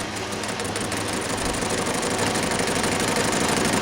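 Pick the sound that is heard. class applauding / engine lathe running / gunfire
engine lathe running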